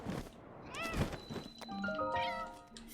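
A pet cat lets out a couple of rising, drawn-out meows close by, accompanied by a soft thump and quiet room noise, with no speech over it.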